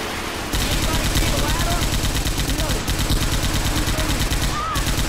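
Rapid automatic gunfire from Left 4 Dead 2 rattles steadily in dense repeated bursts after a short quiet opening, loud and continuous throughout.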